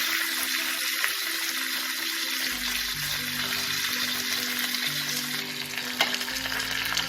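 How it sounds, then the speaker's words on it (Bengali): Mustard seeds and curry leaves temper in hot oil over a low gas flame for masala paniyaram batter, a close, continuous hissing sizzle with scattered pops and crackles, steady throughout with no talking. "তেলটা গরম হয়ে গেলে আমি একটু সর্ষে, গ্যাসের ফ্লেমটাকে একদম কম রাখবো, আর একটু কারি পাতা"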